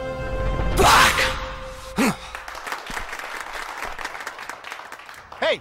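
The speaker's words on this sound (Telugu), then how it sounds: "వాళ్ళందరూ చప్పట్లు కొడుతున్నారు" A crowd in a film scene bursts into a short, loud round of clapping, which fades quickly into quieter sighs, breaths and background murmurs.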